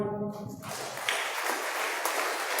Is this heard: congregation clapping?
yes